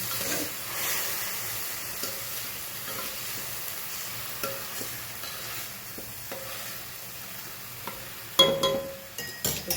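Food is stirred and mixed in a frying pan: a soft, steady sizzle with scattered scraping and clinking of the spoon against the pan, growing busier near the end.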